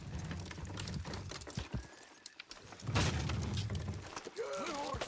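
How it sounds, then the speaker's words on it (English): Horses in the Red Dead Redemption 2 video game clop and strain as they pull down a wooden structure, with thuds, a loud crash midway and scattered thumps, while voices call out between the noises. "Horses will pull it clean down."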